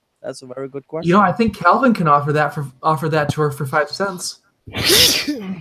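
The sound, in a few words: sneeze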